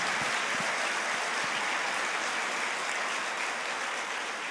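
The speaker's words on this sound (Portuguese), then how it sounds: "Pode aplaudir." Sustained applause from a church congregation during a sermon, a dense, steady wash of many hands clapping at even loudness from start to finish with no talk over it.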